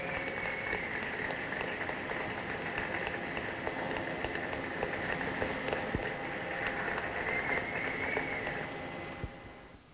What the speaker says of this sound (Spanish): Se escucha un poco bajo, pero son 60 personas aplaudiendo de pie